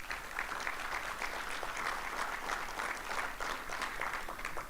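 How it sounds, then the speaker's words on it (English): An audience at a university infrastructure-centre announcement claps in a steady, dense round of applause, sustained and moderately loud without talk over it. "Give yourself a round of applause."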